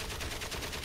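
Gunfire aimed at the player in the WWI video game Valiant Hearts, a dense, steady rattle of shots that fills the whole short moment at moderate, even loudness.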